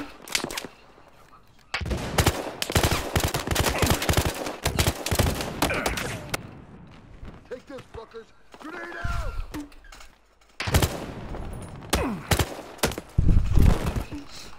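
Bursts of rapid machine gun fire from the Battlefield Hardline video game crackle loudly in clusters separated by brief lulls, with a person talking over parts of the action.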